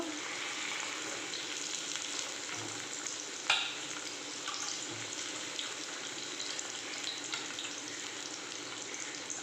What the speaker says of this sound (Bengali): এরকম ব্রাউন কালার করে পনিরগুলোকে ভেজে নিতে হবে